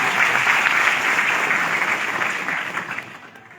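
An audience at a seminar pre-launch event in Lucknow applauds, a dense, sustained wash of many hands clapping that gradually fades toward the end, with no voices over it.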